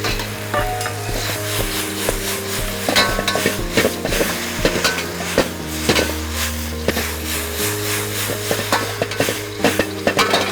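Beef and peanuts sizzle in hot oil as Kung Pao beef is stir-fried, with a steady loud frying hiss broken by repeated scraping and clanking of a spatula against the wok, no talking.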